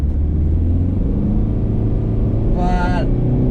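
A Citroën C3 1.4 HDi diesel engine with a worn turbo, an ex-driving-school car past 300,000 km, runs with a steady low rumble, and a brief rising whistle from the turbo blowing comes near the end.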